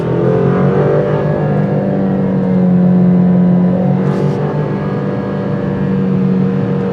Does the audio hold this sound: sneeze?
no